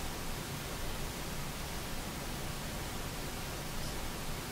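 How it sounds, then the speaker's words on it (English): Steady broadband pink noise test signal, a continuous even hiss with more weight in the lows than white noise, loud and unchanging throughout with no other sounds. "There we go, some pink noise."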